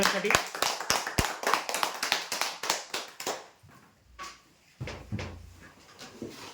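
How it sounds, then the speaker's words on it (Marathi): Audience applause for the final winner at a weekly lottery draw, a burst of rapid claps for about three seconds that thins into scattered taps and knocks. "खुर्ची चार साठी जोरदार टाळ्या"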